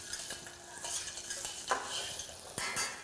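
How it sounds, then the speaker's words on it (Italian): Cherries sauté in a pan as a side for venison loin in a pistachio crust, with a steady soft sizzle, occasional scraping stirs and a few utensil clinks against the pan, near and moderately quiet. "Andiamo a rosolare le nostre ciliegie"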